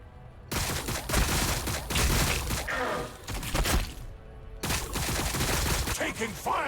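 Dense, continuous gunfire and explosive bursts from Warhammer 40000 Battlesector battle action, loud and sustained with a brief dip mid-clip, no talking over it.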